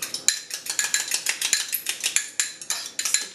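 Eggs are whisked in a bowl for whole wheat bread, a fast, regular clatter of utensil against bowl at about four to five strokes a second, close and crisp, with no speech.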